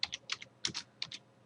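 Quick bursts of keystrokes clatter on a computer keyboard, close and crisp, in a short uneven run of about a dozen taps.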